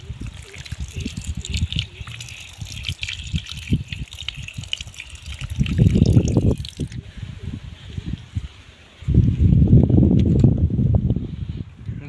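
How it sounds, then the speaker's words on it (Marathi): Water poured into a container for a farm biomix treatment, with irregular splashing and gushing surges, two louder bursts of pouring, close and fairly loud. "यात थोडं पाणी घेऊ आता।"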